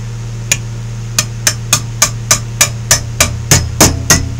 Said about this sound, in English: So take your ball peen.